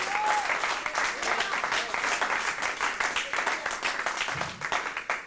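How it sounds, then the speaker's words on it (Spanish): A church congregation applauds steadily throughout, the dense clapping sustained at full level before easing slightly toward the end. "Denle un aplauso al Señor, hermano"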